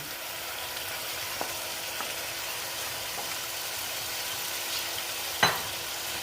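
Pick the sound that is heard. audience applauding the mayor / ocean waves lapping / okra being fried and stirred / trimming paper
okra being fried and stirred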